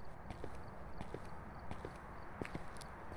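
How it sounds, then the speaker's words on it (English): Ghost footsteps in the horror video game Phasmophobia: a series of soft, evenly spaced thuds heard at a distance over a quiet ambient background. "I heard footsteps"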